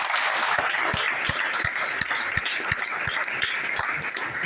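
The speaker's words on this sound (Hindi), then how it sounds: "जोरदार ताली होनी चाहिए" Audience at a business network stage event applauding, a dense continuous clapping with a steady rhythmic beat of unified claps running through it, fairly loud and close.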